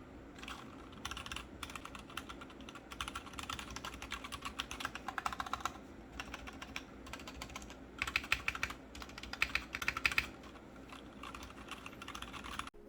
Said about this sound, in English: This is kind of a typical RK61 typing noise, and it's not really pleasant to use right outside of the box.